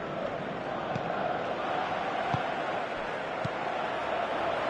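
Steady stadium crowd noise from the football video game PES 2018, a constant dense roar with a few faint thuds, heard without commentary over it.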